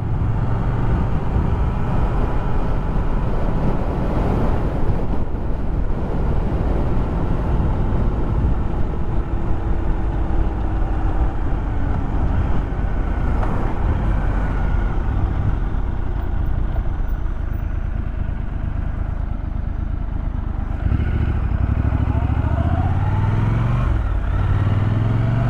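A 2024 Triumph Scrambler 1200 X ridden on a road with gravel, its engine droning loud and continuous under heavy wind rush, with pitch rising and falling as the rider changes speed.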